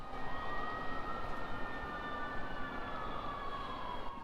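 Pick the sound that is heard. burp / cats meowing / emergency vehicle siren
emergency vehicle siren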